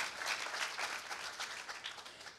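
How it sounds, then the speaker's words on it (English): Steady, dense applause from an audience, moderately distant and continuous, with no voices over it. "round of applause for them"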